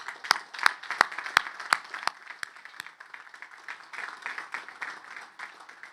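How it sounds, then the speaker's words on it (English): An audience at the United States Military Academy graduation applauds, sharp scattered claps at first settling into a sustained, dense round of clapping from a large crowd. "Let's give them a round of applause."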